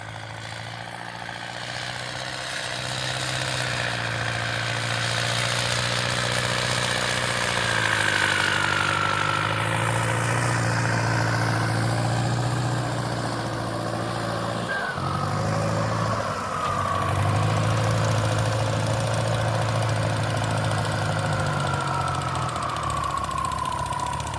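A Ford 6600 tractor pulling a three-disc plow in first gear through a sugarcane field, its engine holding a steady, loud, low droning labor throughout with slight swells in load and no talking.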